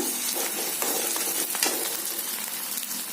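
Onion, garlic and ginger paste fry in a pan for paneer pulao, giving a steady, close sizzle with a few light stirring scrapes throughout.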